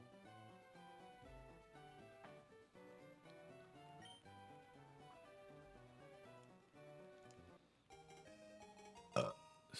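A single short burp bursts out near the end, louder than the quiet Pokémon LeafGreen game music playing underneath.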